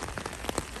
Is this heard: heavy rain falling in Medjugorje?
yes